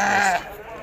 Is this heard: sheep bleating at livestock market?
yes